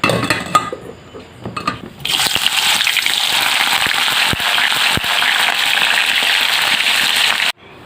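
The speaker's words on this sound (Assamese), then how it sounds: "এই গোটেইখিনি মই ধুনীয়াকৈ ভাজি ল'ম" Raw banana slices frying in hot oil for homemade chips set up a loud, steady crackling sizzle after a brief quieter start, with occasional sharp pops and clinks, then stop abruptly near the end.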